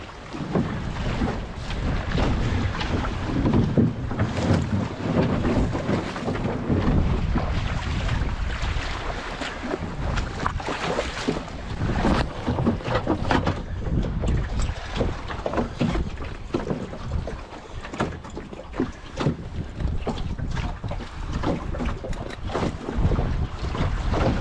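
A sailboat drifts toward shore with the wind, carrying constant gusty wind buffeting and low rumbling noise, with water sloshing against the hull and occasional creaks from the boat.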